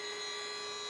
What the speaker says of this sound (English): This is the noise of the DROS RS with no dust extraction.